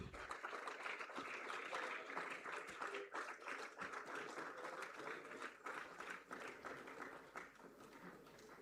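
Applause from an audience at a school award ceremony, a continuous wash of many hands clapping at a fairly even level, somewhat distant and muffled, with no one speaking over it.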